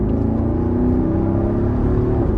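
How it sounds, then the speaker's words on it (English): A Mercedes-Benz SL63 AMG V8 engine and exhaust roar steadily and loudly from close by, a deep rumbling drone that holds under full throttle without pause. "Engine sounds super great. The exhaust sounds phenomenal as well."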